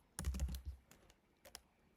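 A short burst of typing on a computer keyboard, a quick cluster of close clicks followed by a pause and two more isolated keystrokes, with no talk.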